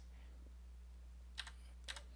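Two quick keypresses on a computer keyboard while editing in Emacs, sharp distinct clicks about half a second apart over a steady low electrical hum in a quiet room.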